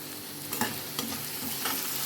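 Chopped onions with green chili, peppercorns and salt fry in a pan, a dense, continuous sizzle close by with a few scraping stirs breaking through, no talking.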